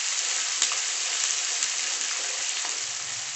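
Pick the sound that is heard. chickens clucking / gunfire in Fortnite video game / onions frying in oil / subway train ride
onions frying in oil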